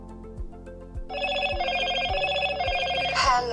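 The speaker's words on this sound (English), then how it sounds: "I will go here to my phone ringtone, and you can see here it's at the moment Moto." The Moto ringtone on a Motorola moto g42 phone plays clearly, a short melodic chime over a rhythmic beat, with no one talking.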